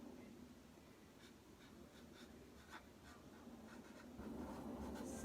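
Pen writing simple straight letters on a Mother's Day bouquet card, soft scratchy strokes in short bursts, close but faint against a quiet background with no talking.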